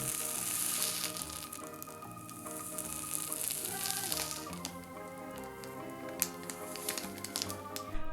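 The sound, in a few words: hot knife sizzling while cutting snacks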